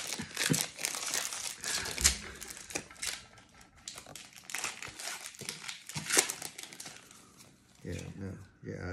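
Pokémon card packs are torn open with crinkly foil ripping and rustling, in bursts up close, while people talk excitedly over the crackling.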